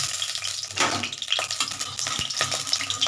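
Soaked, drained gobindobhog rice frying in mustard oil in a pan, a steady close sizzle and crackle with light stirring scrapes, no voices.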